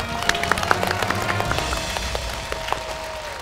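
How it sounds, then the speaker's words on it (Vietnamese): A studio audience claps on the Vietnamese picture-puzzle game show Đuổi Hình Bắt Chữ, a run of quick scattered claps over steady background music. "Và thưa quý vị, một tràng vỗ tay"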